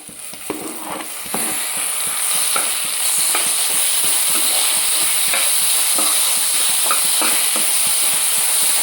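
Tomatoes and onions frying in a pan, a continuous bright sizzle broken by repeated scraping stirs of a spoon, close and fairly loud with no talking.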